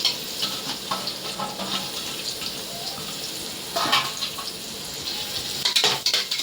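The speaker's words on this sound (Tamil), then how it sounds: "இப்போ வெங்காயத்தை போட்டுக்கலாம்." Onions dropped into hot oil in a pan for mushroom biryani, a steady close sizzle with stirring scrapes and utensil clinks, no talking.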